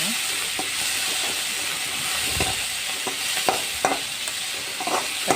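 Food fries in a pan with a continuous sizzle, broken by scattered scraping knocks from stirring as a cluster bean stir-fry cooks. No voices are heard.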